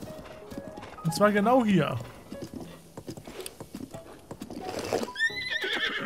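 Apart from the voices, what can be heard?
horse neighing and hooves clip-clopping in The Legend of Zelda: Breath of the Wild video game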